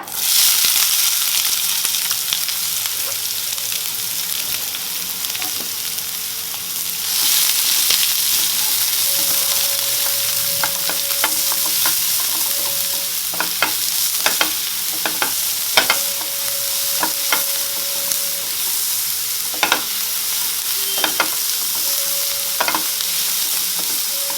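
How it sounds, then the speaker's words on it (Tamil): Three large onions sautéing in oil with curry leaves and popped mustard seeds for an egg gravy, a steady close sizzle throughout with repeated sharp scrapes and taps of a spatula stirring the pan, no talking. "வெங்காயம் நல்லா வதங்கட்டும்"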